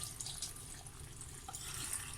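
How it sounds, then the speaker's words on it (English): Water pours into a pot of Ghanaian okra stew, a faint steady trickle and splash with light clinks, heard alone in a quiet kitchen. "So now I'm going to add water to it."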